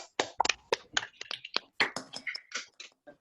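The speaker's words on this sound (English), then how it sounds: "just give a big round of applause" Scattered, uneven claps from a few participants on a video call at a seminar, sounding thin and separate, as if from several unmuted microphones, with no talk over them.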